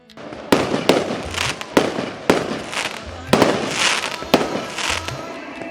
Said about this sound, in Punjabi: ਵਿਸ਼ੇਸ਼ ਰੂਪ ਵਿੱਚ ਆਤਿਸ਼ਬਾਜ਼ੀ ਵੀ ਚਲਾਈ ਗਈ